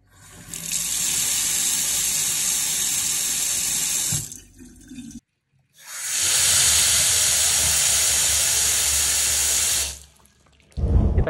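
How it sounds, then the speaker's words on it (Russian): A cleaned faucet mixer tap, restored after weak pressure, runs strongly in two long, steady, loud hissing bursts of water, with a brief pause between them and a short final splash. "поток воды у нас восстановился, все смесители заработали"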